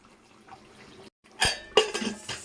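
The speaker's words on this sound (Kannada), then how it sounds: "ಈಗ ಇದಕ್ಕೆ ಕುಕ್ಕರ್ ಮುಚ್ಚಳ ಮುಚ್ಚಬೇಕು." The lid of a pressure cooker holding a capsicum rice dish is set on and closed; after a quiet stretch, two sharp, close metallic clanks land about a third of a second apart, followed by smaller rattling knocks.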